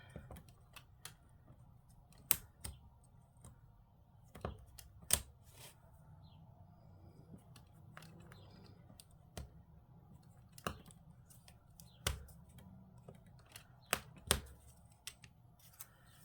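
Scissors snip out small paper pieces for a miniature kitchen and dining set, a quiet, close series of crisp, irregular cuts over faint room noise.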